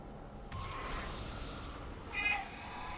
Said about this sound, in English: Is that a void kitty?